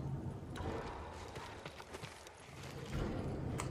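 A thin brown horse in Ghost of Tsushima clip-clops at a walk, soft irregular hoof knocks over a constant outdoor ambience, fairly quiet.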